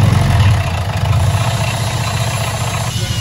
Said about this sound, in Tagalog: maingay yung ating makina